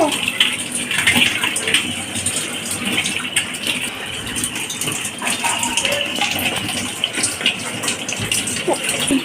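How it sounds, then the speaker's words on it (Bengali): Fish and meat, including hilsa, shrimp and chicken, being washed clean under running tap water at home, a close, continuous splashing gush with uneven bursts throughout, with a voice talking faintly in the background. "সব মাছ মাংস ভালো করে পরিষ্কার করে ধুয়ে নিচ্ছে"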